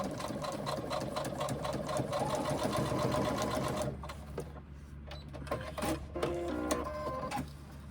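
A sewing machine stitches a pouch pocket, running in a loud, steady mechanical whir, then breaking into shorter stop-start bursts of stitching as the seam pivots and finishes.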